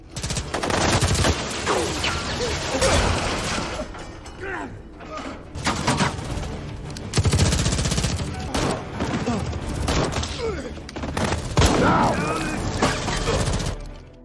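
Gunfire and bursts of automatic fire ring out during a movie battle scene against a mafia boss's henchmen, dense and loud throughout with crashes and booms, mixed under talk.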